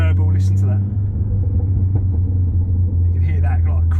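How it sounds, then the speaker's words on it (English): Custom valved quad exhaust on an Audi TT in sport mode, a deep steady burble with low rumble through the whole stretch and brief crackles near the start and end as the throttle is blipped. "you get this really nice kind of like the blip of the throttle in the sport mode. You get like a burble."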